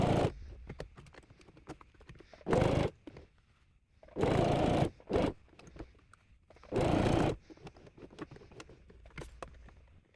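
A sewing machine runs in several short bursts, stitching slowly over the zipper of a fabric shoulder bag, with quieter handling and rustling between the bursts.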